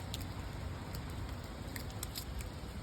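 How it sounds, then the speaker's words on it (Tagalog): Dense, steady pattering of hail falling outside in Canada, a continuous crackling hiss with scattered sharper ticks throughout. "Umulan ng ice dito sa labas"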